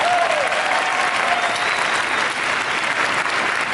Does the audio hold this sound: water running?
no